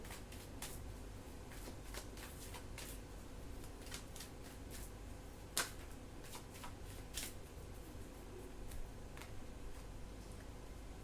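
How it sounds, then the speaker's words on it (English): Tarot cards being shuffled in repeated crisp riffling bursts, close and steady throughout, with a few sharper snaps standing out, and no talking. "Let me shuffle again."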